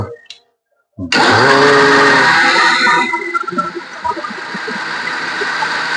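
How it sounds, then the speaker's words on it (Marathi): A kitchen mixer grinder switches on after a brief silence and whirs loudly and steadily, its motor pitch dropping slightly as it churns a thick banana shake. "मिक्सरचं बटन लावलं"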